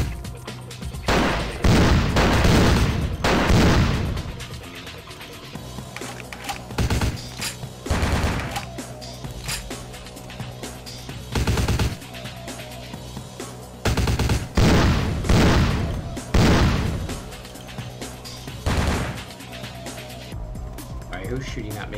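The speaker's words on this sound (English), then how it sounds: "Who's shooting at me?" Gunfire in the game Vampire: The Masquerade – Bloodlines, loud bursts of shots arriving in irregular clusters across the stretch, separated by quieter gaps filled with low ambient noise.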